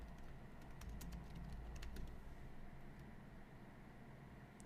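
Keys clatter on a computer keyboard as a search phrase is typed, a quick run of light, faint clicks over steady background hiss that fades into the hiss after about two seconds.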